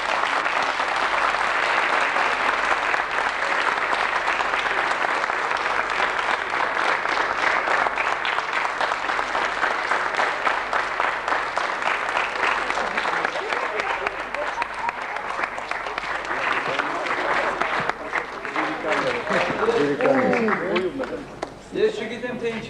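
A theatre audience applauding at a stage performance, dense and loud sustained clapping filling the hall, tapering toward the end as a voice begins speaking over it.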